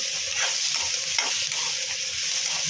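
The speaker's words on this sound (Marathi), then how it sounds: "कांदा जो आहे तो लालसर होत आलेला आहे त्याला अजून थोडं आपण परतवून घेऊ" Onions sauté in hot oil in a pan for Kolhapuri mutton rassa, a close, dense and continuous sizzle with soft stirring scrapes running through it.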